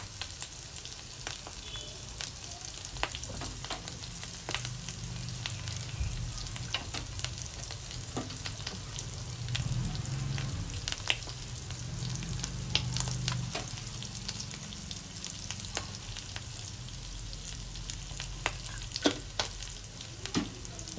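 Spices and salt being stirred into small fish curry cooking Telangana style in a hot pan, with a steady sizzle and repeated scraping strokes of a spoon throughout, close and continuous.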